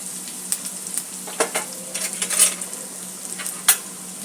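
Water is poured onto red chilli powder, red chilli and onion-garlic masala sizzling in a hot pan, giving a steady frying hiss broken by scattered sharp crackles and spoon-scraping clicks, with no talking.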